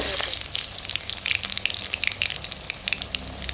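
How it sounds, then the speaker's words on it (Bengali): Ridge gourd fries in hot oil with cumin, giving a close, continuous crackling sizzle with scattered pops and no voices. "ঝিঙেগুলো ভালো করে ভেজে নেব।"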